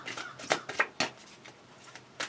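Tarot cards are shuffled close up in a series of quick papery riffles and soft slaps with brief pauses between them. No one talks.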